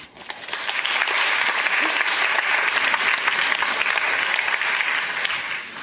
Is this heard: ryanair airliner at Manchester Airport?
no